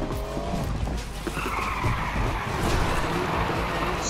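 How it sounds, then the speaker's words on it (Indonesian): In the Need for Speed racing game, a car's handbrake drift sets off loud, sustained tire squeal and skidding over engine roar, close and continuous for several seconds. "Suaranya aneh gitu ya rem tangan"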